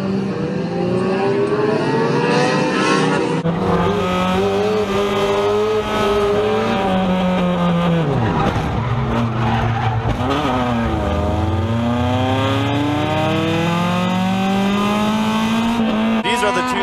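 Race car spinning out at Irwindale Speedway, engines revving and wailing in rising and falling pitch sweeps with tire squeal, loud and continuous, with excited commentary running over it.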